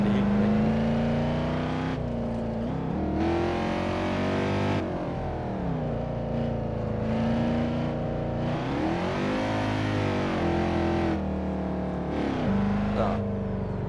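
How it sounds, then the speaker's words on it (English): A loud car engine runs steadily and close by, its pitch rising and falling as it revs and accelerates, with no voices over it. "I can hear the car so loud."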